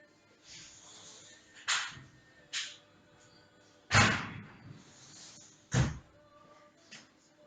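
A house door opens and closes, giving several sharp knocks and thuds, one heavier slam near the middle and another soon after, fairly close in a quiet room with no talking.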